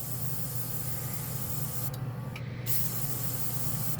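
Casubaris portable airbrush spraying primer paint gives a steady, faint, airy hiss that runs without pause, with a couple of brief dips in the spray, and no voices.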